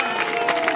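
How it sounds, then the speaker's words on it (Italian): Scattered, mocking applause from a crowd at an anti-eviction picket in Rome, a dense, continuous patter of hand claps that stays fairly steady through the brief moment, with no clear voices on top. "Ecco l'applauso irrisorio delle persone"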